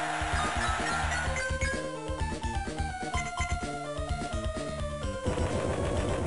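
Explosion move sound effect from Pokemon Emerald, a loud, dense burst of crackling, rumbling blasts with layered tonal electronic sweeps, running continuously and alone without any talk.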